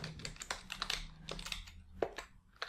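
Rapid typing on a computer keyboard, with crisp, irregular keystroke clicks in quick bursts, close-up and moderately quiet, and no talk.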